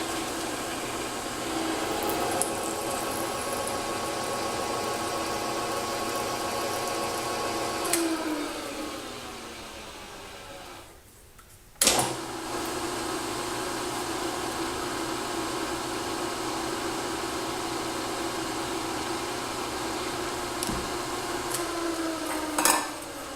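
A tap cutting threads in a hole with cutting oil, a continuous grinding hiss with sharp metallic clicks, briefly easing off mid-way before resuming, close and alone.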